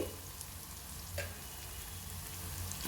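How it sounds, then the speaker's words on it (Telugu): Ginger garlic paste sizzles and fries steadily in a hot pan, a continuous close crackle with occasional small pops and stirring scrapes, no voices over it. "బాగా కలపాలి రెండు నిమిషాల పాటు వేగనివ్వాలండి"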